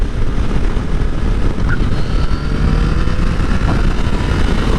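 A 2015 Yamaha FJ-09 sport-touring motorcycle with its stock exhaust, heard while riding, a steady loud engine drone mixed with heavy wind rush that stays constant throughout.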